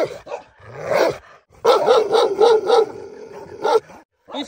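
Shepherd dogs guarding sheep in a forest bark loudly nearby in several strained, yelping bursts, with a short whine between volleys and no talk.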